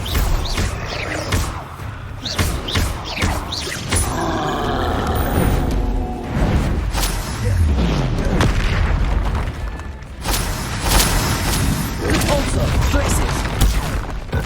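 Repeated booming blasts from the Bombarda spell in the Hogwarts Legacy video game, loud and heavy, with crackling bursts and rumbling impacts in rapid succession alongside other spell effects.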